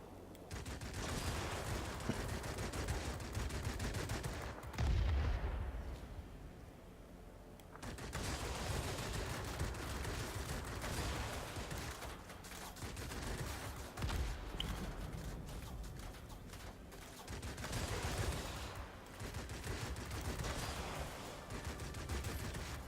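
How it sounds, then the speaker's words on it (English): Machine gun fire from a fully upgraded Hurricane Mk II fighter in the World of Warplanes aerial combat game, loud dense bursts with brief pauses between them, continuing over engine noise for the whole stretch. "I'm having to space out my gunfire to avoid the overheating issue"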